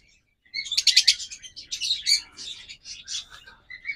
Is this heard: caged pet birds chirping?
yes